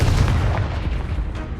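Confringo fire spell blast in a Hogwarts wizarding video game, a heavy booming burst with rumbling low-end that rolls on continuously through the short moment, with no voices.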